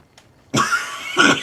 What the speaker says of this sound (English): Coughing up a storm.